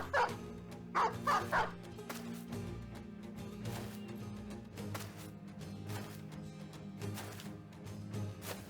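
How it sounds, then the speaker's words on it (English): A pack of dogs barks, yips and whimpers in the video game Battle Brothers, with clusters of sharp barks recurring over a low droning game soundtrack. "that's a lot of dogs."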